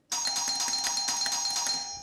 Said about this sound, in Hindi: इतनी बार डोरबेल बजाने पे भी